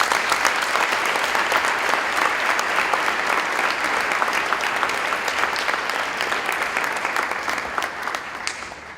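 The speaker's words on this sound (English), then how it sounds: "Please give a round of applause." Sustained applause from a large audience at a Model UN keynote speech in East Africa, dense and steady throughout before tapering slightly near the end.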